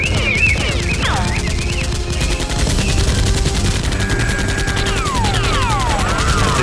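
Rapid bursts of gunfire pop continuously over loud, busy action-scene sound with whooshing effects, dense and close throughout.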